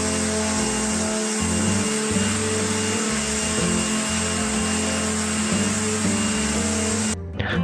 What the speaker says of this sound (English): 120 grit sanding sheet